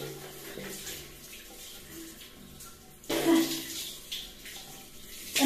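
Shower water splashes and runs in a home bathroom, a quiet hiss that suddenly swells into a louder, fuller gush partway through, with faint background noise.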